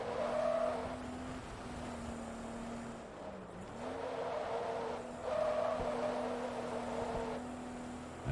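A Porsche 914/6 racing engine in Forza Motorsport 2 drones at a steady pitch, dipping briefly as the throttle lifts for a corner and then rising again, with faint tire scrub beneath it.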